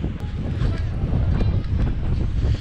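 Strong wind on a seaside promenade between Livadia and Yalta, Crimea, roars steadily across the microphone with a low, continuous rumble, loud and unbroken throughout.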